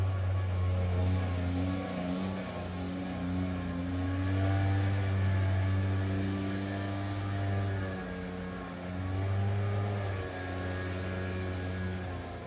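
A leaf blower engine runs outdoors with a steady, loud droning hum that swells and dips in intensity throughout, close enough to dominate the scene.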